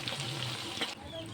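Chicken and spice paste sizzle steadily in a frying pan for potato chicken curry, a fairly quiet hiss with faint scraping and some low background voice.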